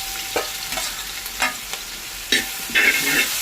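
Green chillies, garlic and ginger frying in oil in a pan for a liver roast, with a soft steady sizzle broken by several scraping stirs of a spoon, heard close and alone.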